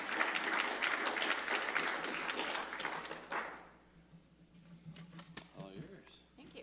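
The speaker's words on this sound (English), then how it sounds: "So round of applause." Audience applause at a Vermillion Rotary meeting welcoming Vermillion Public School Foundation guests, dense clapping for about three seconds that then thins out into scattered claps as a voice speaks.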